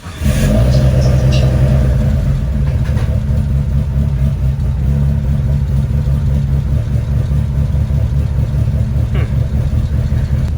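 A Mitsubishi Galant with a turbocharged 4G64 engine rumbles loudly up close, rising in a rev at the start and then settling into a steady, throbbing idle, with a few faint clicks over the engine.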